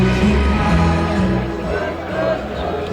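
A crowd of around 5,000 at a Gloucestershire versus Middlesex cricket match singing a song together, a broad, loud, sustained chant with shouts mixed in.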